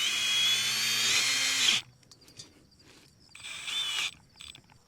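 A power drill whirs steadily for under two seconds as a corner bracket is screwed onto a Quonset greenhouse frame, then stops; a shorter second whir follows after a quiet gap, close and clear.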